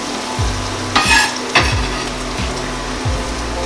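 Onion fries in melted butter in a pan, a constant sizzle with a few louder bursts as the pieces are scraped and stirred in, close and with no talk.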